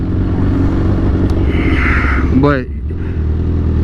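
A 2008 Suzuki GSX-R 1000 motorcycle engine idles with a steady low rumble close by, briefly rising in a quick rev near the middle; someone speaks a word over it.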